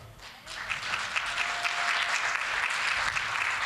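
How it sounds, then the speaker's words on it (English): Steady applause from a conference audience swells in after a brief quiet start and keeps going evenly, dense clapping with no voices standing out. "Canada didn't used to get such applause at these meetings."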